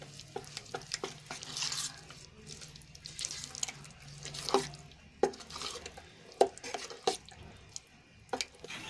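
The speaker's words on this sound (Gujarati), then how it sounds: "હવે બધું સરસ રીતે મિક્સ કરી લેશું." A spoon mixes dhokla batter with salt, turmeric and coriander-cumin powder, giving irregular wet scrapes, knocks and clicks against the bowl, some sharp and close, with no voices.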